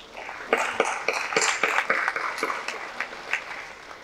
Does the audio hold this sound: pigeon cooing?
no